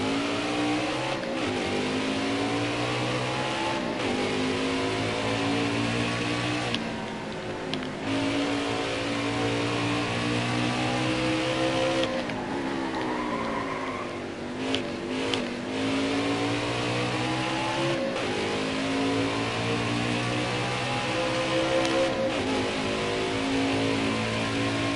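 A race car engine in the video game NASCAR Heat 4 drones steadily at high revs, with rising and falling pitch sweeps through gear changes and corners, loud and continuous with no talk.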